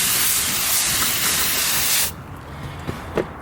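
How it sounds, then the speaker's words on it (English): A cheap pressure sprayer spraying tires: a loud, steady, broadband hiss of spray for about two seconds that cuts off abruptly, followed by quieter clicks and a faint short spurt. "let's spray these tires down"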